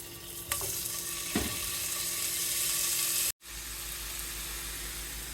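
Shrimp sizzling in a hot pan with extra virgin olive oil: a steady close hiss of frying with a couple of light clicks, briefly cut out partway through, then resuming.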